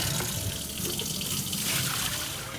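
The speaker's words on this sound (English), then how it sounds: "it's safe to just go ahead and pour it down the drain" A bucket of descaling solution, diluted with extra water and drained from a tankless water heater, is poured steadily down a drain, making a continuous rushing gush with no breaks.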